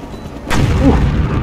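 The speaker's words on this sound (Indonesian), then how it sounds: "Apa itu meledak?" A single loud explosion booms in the Call of Duty Black Ops video game, a sudden blast that rumbles and lingers over continuous background noise.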